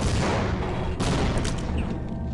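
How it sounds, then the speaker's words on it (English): Grenade explosions in the shooter game Half-Life, a dense run of heavy booms and crackling blasts, loud and close, with a sharp burst near the middle and the rumble fading out after. "We're gonna toss grenades at it."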